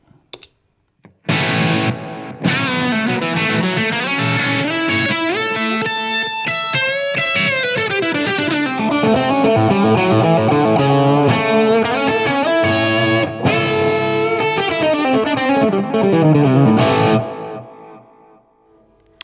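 Electric guitar through a Blackstar AMPED 1 amp pedal at high gain with a TC Electronic Flashback delay, distorted chords and riffs ringing out with echoing repeats, loud and continuous.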